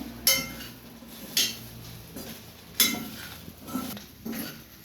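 Byadagi chillies and pepper roasting with coconut in a pan make intermittent scraping clinks as a utensil stirs against the metal, about five distinct knocks spaced unevenly, with a quiet background between them and no talking.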